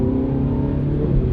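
A Ferrari F430 F1 engine strains under hard acceleration, a loud, close, continuous rumbling roar that holds steady throughout.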